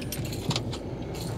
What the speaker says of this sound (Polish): Zamknę bramę.